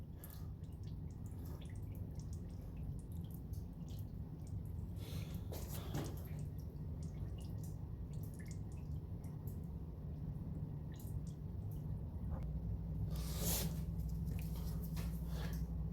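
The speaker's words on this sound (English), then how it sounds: "I'm going to wait until the oil has drained properly." Transmission oil drips from the drain hole of a Toyota Estima Hybrid, a quiet, steady trickle with scattered soft drips over a low background hum, heard alone without speech.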